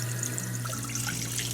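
Running water flows steadily from a tap, with faint splashing and trickling as fried tofu (aburage) is rinsed under it to remove oil.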